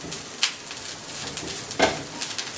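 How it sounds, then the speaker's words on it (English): Grated coconut sautéing in a pan with a soft, low sizzle, broken by two brief stirring scrapes of a spatula against the metal; close and quiet, with no voices. "add coconut, fry it well"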